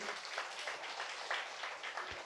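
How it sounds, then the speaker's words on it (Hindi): A church congregation claps together in thanks to Jesus, a faint, steady wash of many hands with soft rhythmic swells and no voices over it. "और एक बार ताली बजा के यीशु को धन्यवाद दीजिए"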